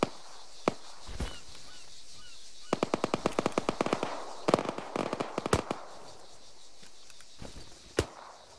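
Gunfire cracks out during a skirmish inside a theater: scattered single shots, then a rapid volley of close bursts, followed by more isolated loud reports.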